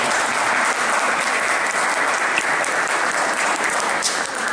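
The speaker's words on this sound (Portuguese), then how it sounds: "salve palmas à comunicação" Steady, dense applause from an audience fills the room without a break, loud and close throughout, at a session on wool and shearing.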